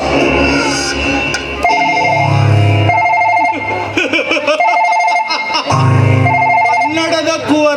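A telephone rings in repeated short tonal bursts, mixed in with loud background music and a low droning bed throughout.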